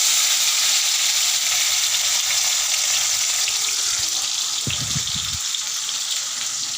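Bitter gourd frying in a pan, a bright, steady sizzle close by with a brief low clatter partway through as it is stirred, no voices.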